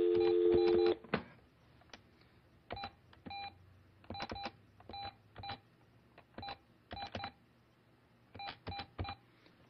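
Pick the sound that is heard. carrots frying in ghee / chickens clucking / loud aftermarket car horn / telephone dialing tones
telephone dialing tones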